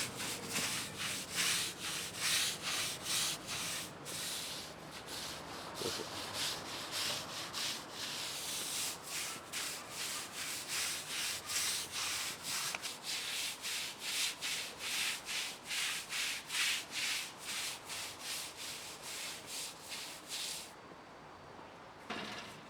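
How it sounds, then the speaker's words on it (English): Sealer is applied to a patterned concrete driveway in steady, repeated rubbing strokes. The soft, even swishes carry on at a regular rhythm for about twenty seconds and sound close and fairly quiet. "I'm applying the sealer, ensuring that the drive is covered and ensuring there are no runs."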